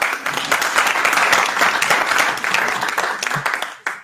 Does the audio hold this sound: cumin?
no